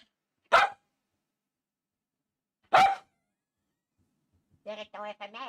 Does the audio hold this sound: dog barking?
yes